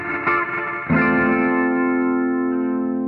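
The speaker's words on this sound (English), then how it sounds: "you turn that modulate down a little bit and we can just get that good chorusy tone" An electric guitar played through an effects pedal with the modulation turned down for a chorus tone: a strummed chord rings out, then a second strum swells into a sustained, shimmering, slightly wavering tone that holds loud and close.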